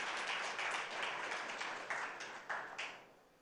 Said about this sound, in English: I think he needs a loud round of applause